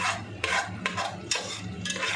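Onions frying in a pan for shahi veg biryani, stirred by hand: a quiet sizzle with a few quick, close spatula scrapes in short bursts.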